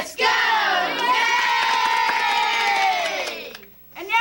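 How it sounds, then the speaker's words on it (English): A children's studio audience cheers and shouts together at the opening of a 1983 kids' television show, a loud, sustained chorus of young voices lasting several seconds before it suddenly drops away, then rises again briefly at the end. "Let's give a rousing cheer, 'cause Dowdy Hooty's here."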